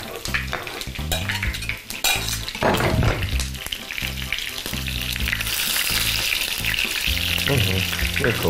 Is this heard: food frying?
yes